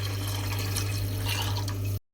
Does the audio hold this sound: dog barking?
no